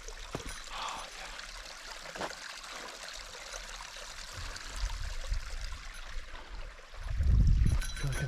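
A creek along a narrow woodland waterfall trail runs in a steady wash, faint at first and then rising into a louder, closer splashing surge near the end.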